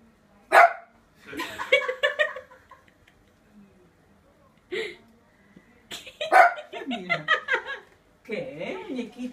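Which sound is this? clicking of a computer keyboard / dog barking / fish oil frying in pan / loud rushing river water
dog barking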